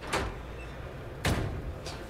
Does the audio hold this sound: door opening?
yes